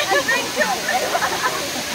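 Balagbag Falls waterfall in Real, Quezon, heard as a steady rushing wash of falling water filling the whole clip, close and fairly loud, with a voice speaking over it.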